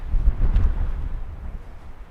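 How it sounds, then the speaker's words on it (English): Cold winter wind buffets the microphone at 11,000 feet in Colorado's Lost Creek Wilderness, a low, gusting roar that swells and fades. "But it is gonna be brutally cold in this wind."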